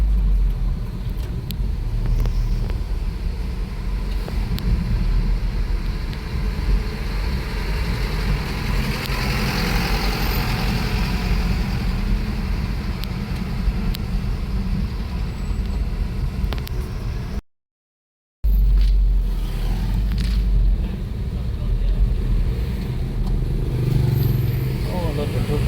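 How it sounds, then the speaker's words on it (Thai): Trucks and traffic rumble steadily along a city road in Vientiane, a continuous loud engine drone with idling and passing vehicles, broken by a short gap, with people talking over it. "โอ้รถบรรทุกเยอะหลายเนาะรถยกรถดำ"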